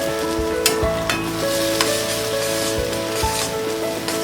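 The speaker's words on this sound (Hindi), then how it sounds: "2 मिनट तक हम पालक प्यूरी को भी फ्राई करेंगे" Spinach puree frying in a pan for spinach khichdi, a dense, close sizzle with bubbling and a few scraping stirs, continuous with no speech.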